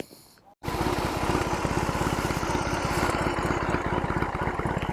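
A BMW R18 motorcycle engine sputters into a steady, low idle after a brief quiet moment, its rapid even pulses rumbling on without change.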